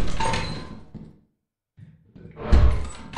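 A door opens in the video game Lethal Company, with a sliding scrape and a heavy thunk, followed after a short silence by a louder mechanical clunk up close.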